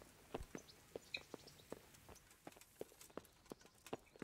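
Steady clip-clop of horse hooves at a walking pace in the video game Kingdom Come: Deliverance, moderately close, with faint bird chirps in the background.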